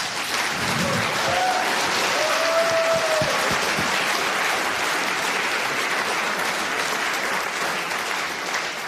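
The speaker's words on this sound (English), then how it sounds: "This is your applause." An audience at a live orchestra performance applauds steadily and fairly loudly, a dense even clatter of clapping hands lasting throughout, with a few brief whoops rising over it near the start.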